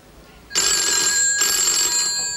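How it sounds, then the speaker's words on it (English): A telephone bell rings loudly in two bursts, the first starting about half a second in and a second following closely, bright and metallic with no talk over it. "Who's that ringing on our phone?"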